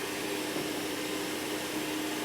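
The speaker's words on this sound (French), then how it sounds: "Là on peut voir le petit bras avec la petite serpillière rotative qui amène les cheveux à l'intérieur de l'aspirateur" A Mova P50 Pro Ultra robot vacuum mop with a small rotating mop arm runs steadily, giving an even, continuous suction whir with a faint hum and no pauses.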